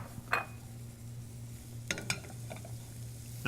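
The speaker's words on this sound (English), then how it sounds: "Now we're going to toss that all around," Sliced garlic is tossed in butter in a restaurant pan for grilled veal chop saltimbocca, a faint low sizzle under a steady hum, broken by a few light metallic clinks and scrapes.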